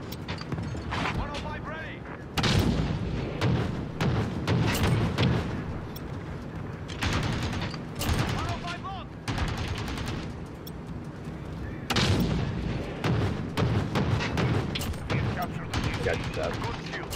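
Gunship firing on enemies in Call of Duty: Modern Warfare, heavy repeated booming bursts and rapid gunfire in uneven clusters, loud and close, with voices talking over much of it.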